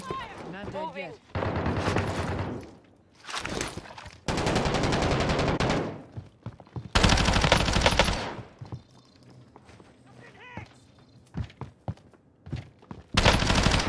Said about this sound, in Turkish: Karşıdan snipe atıyorlar bana.